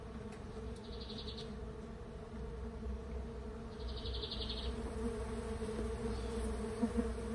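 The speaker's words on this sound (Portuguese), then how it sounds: "Ainda está saindo abelhas, tem muitas abelhas aqui." Mandaçaia stingless bees buzz steadily and close up while a hive is being divided, with a continuous insect hum and a few brief higher whines.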